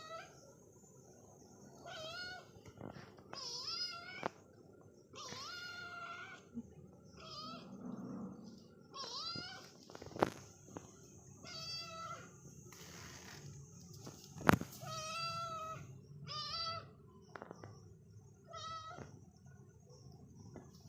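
A cat meows repeatedly in short, separate calls over a quiet background, with a few sharp knocks in between.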